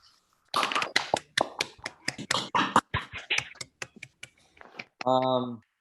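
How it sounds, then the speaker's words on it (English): An audience at an evening lecture event claps for the speakers in scattered, uneven bursts that rise and then thin out. A voice begins speaking as the clapping dies away. "I was hoping if we could just get another round of applause for everybody who spoke tonight"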